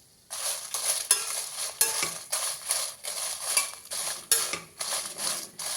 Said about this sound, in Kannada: ಒಂದು ಸ್ಪೂನ್ ಎಣ್ಣೆ ಹಾಕಿ ಘಾಟ್ ಬರ್ತದೆ ಅಂತ ಒಂದು ಸ್ವಲ್ಪನೇ ಹಾಕ್ಕೊಂಡು ಚೆನ್ನಾಗಿ ಹುರ್ಕೋಬೇಕು.